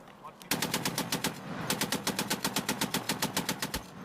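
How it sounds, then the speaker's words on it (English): Heavy NATO machine gun firing in rapid bursts, sharp evenly spaced cracks in a steady rhythm with a brief pause between two long strings of shots, loud and close. "It's the primary heavy machine gun of NATO countries"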